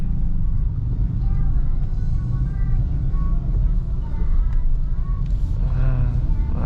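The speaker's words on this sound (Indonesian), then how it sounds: "Nah itu truk sampah lewatnya sana Bray." A garbage truck passes on a road in Indonesia, heard from inside a moving car as a constant low engine and road rumble, with faint talking over it.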